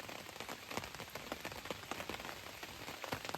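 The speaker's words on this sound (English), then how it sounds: "It's raining." Rain falling at night at a carp fishing lake, a faint, steady patter of drops on nearby surfaces with scattered sharper taps, continuous and without talk.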